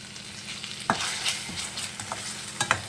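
Chopped tomatoes sizzling in a pan for a snail gravy, stirred with a few scraping strokes over a steady close frying hiss, with no talk.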